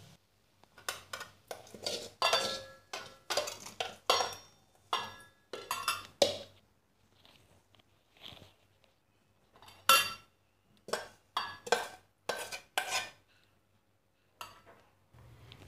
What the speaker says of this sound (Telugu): ఆ తర్వాత స్టవ్ ఆఫ్ చేసేసి సర్వింగ్ బౌల్లోకి తీసుకోవాలి.